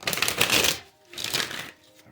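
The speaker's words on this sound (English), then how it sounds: "One more shuffle." Two quick riffle shuffles of a deck of cards, each a brief fluttering burst of snapping cards, close by.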